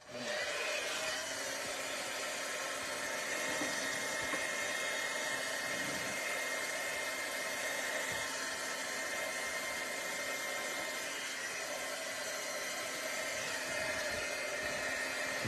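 A heat tool blows steadily to dry a scrapbooking craft project, a continuous loud hissing, whirring airflow that holds without a break for the whole stretch, with no talking over it.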